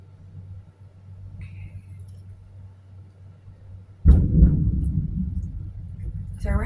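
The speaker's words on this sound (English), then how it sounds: "I don't know if you just heard that thunder, but that was pretty loud." Loud thunder during a storm, a sudden heavy rumbling crack that rolls on for a couple of seconds after a quiet indoor stretch.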